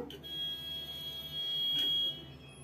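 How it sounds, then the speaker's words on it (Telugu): A mixer grinder grinds fresh gongura leaves for an Andhra-style gongura chutney made with dried red chillies, giving a steady, close, high-pitched motor whine that swells slightly for about two seconds. "ఇలా గోంగూర వేసి మిక్సీ పట్టేసుకుందాం."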